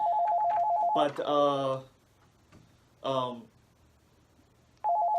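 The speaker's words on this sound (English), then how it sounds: "Oh, we got a phone call." A phone ringtone repeats in steady electronic pulses, fairly soft, stopping while people talk nearby and resuming at the end.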